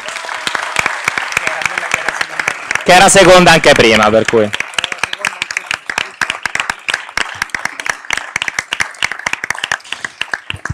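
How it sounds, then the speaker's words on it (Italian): Members of the Italian Chamber of Deputies applaud candidate Carla Ruocco, a scattered, uneven patter of hand claps in a large hall, briefly overlapped by someone speaking in the middle before the clapping carries on alone. "facciamo un bel applauso a Carla Ruocco"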